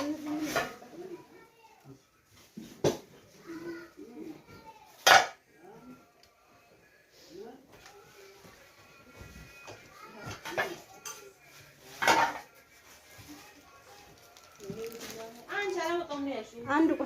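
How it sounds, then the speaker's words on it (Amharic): A set of cooking pots, a dozen from small to large, handled and knocked together, with sharp metallic clanks scattered among ongoing talk in a room. "እና እነዚህ ድስት ናቸው።"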